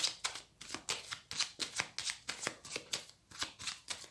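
A deck of tarot cards being shuffled and cut, giving a steady run of crisp riffling flutters repeating roughly every third of a second, close and fairly loud, with no talking.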